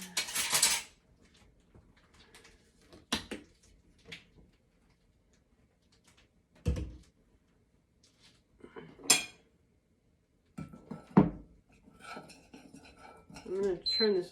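A tablespoon stirs sausage mix (Promin or Cambrooke) in a bowl, giving scattered metallic clinks and scrapes in short bursts separated by quiet gaps, close and moderately loud.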